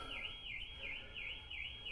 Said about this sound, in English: some car alarm going off out there